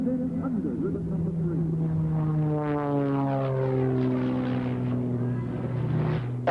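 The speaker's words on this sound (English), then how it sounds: "you are watching the aerobatic biplane, the Randolph Challenger of Mr. Sean D. Tucker." Sean D. Tucker's Randolph Challenger aerobatic biplane drones overhead at an air show, its propeller engine note sliding downward in pitch as it passes, with a voice talking over it.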